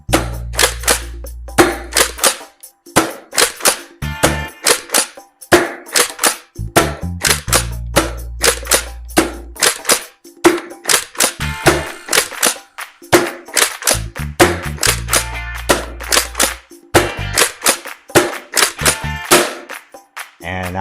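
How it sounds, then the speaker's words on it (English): Nerf Pro Torrent blaster firing darts, a long series of sharp, loud, close cracking shots, some spaced and some in quick bursts, with brief pauses and a low mechanical hum between volleys. "I'm gonna load up this mag and let's get to the firing test and see how the Nerf Pro Torrent performs"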